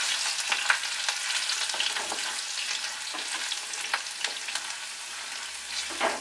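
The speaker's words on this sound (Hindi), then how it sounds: "गार्लिक डाला, ग्रीन चिली डाली और थोड़ा सा अदरक, इसमें थोड़ा सा फ्राई होने देंगे अच्छे से" Garlic, green chili and ginger frying in hot oil, a steady close sizzle with soft crackles and occasional stirring scrapes, no talking.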